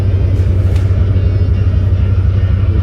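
A Ford LTD's engine rumbles in gear while driving, heard from inside as a loud, steady low drone with no talk.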